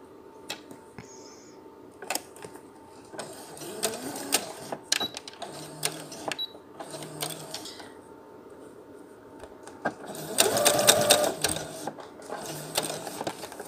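A sewing machine stitches a cloth face mask in short bursts of rapid mechanical whirring separated by pauses and small clicks, with a longer louder run near the end, close and without talk.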